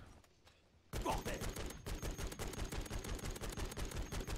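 Rapid automatic M4A1 rifle fire in Call of Duty MW3 Zombies, a dense sustained burst of rattling shots starting abruptly after a quiet moment, loud and continuous to the end.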